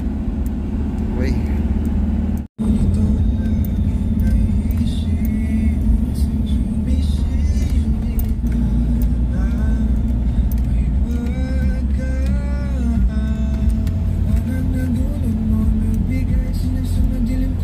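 Motorized tricycle ride on a Philippine road, engine droning loud and steady throughout with road rumble, a brief cutout early on, and passengers talking over the noise.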